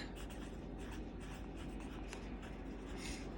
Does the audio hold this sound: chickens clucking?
no